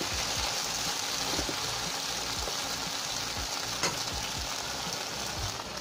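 A covered pan of frying okra and sarputi fish hisses and crackles steadily for several seconds, with light clicks and low knocks beneath the dense sizzle.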